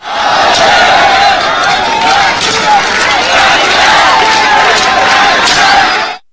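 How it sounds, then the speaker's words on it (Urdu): A large crowd at the parade and flag-lowering ceremony at the Ganda Singh border chants slogans, a loud, roaring wall of massed voices that stays steady and close for about six seconds before dropping off abruptly. "فضا نعرہ تکبیر اور پاکستان زندہ باد کے نعروں سے گونج اٹھی"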